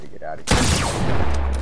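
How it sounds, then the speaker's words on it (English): A sudden loud burst of gunfire in a shooting video game, a dense crack that rings out and decays, preceded by a brief faint tonal sound. "I'm just shooting to shoot now."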